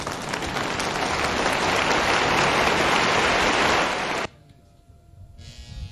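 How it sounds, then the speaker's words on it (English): Audience applause at a Sokoto State University convocation ceremony, a loud dense roar of many hands clapping that cuts off abruptly, leaving quiet room tone. "I think His Royal Highness deserves more and more round of applause, please."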